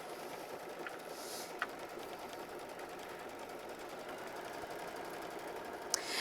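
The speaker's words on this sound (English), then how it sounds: "we're going to go ahead and sew machine stitch step 3 directly on to our batting" A sewing machine stitches directly onto quilt batting, giving a steady, even whir that runs without pause at moderate level, with a couple of small clicks along the way.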